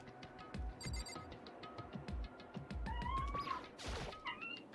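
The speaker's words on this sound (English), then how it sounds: "Yeah, that's my cat, I'm sorry." A pet cat meows several times, the short, fairly close calls mixed with a telephone-like ringing tone in the background, and no speech over it.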